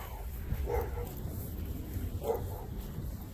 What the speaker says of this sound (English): Stray dogs scare the hell out of me.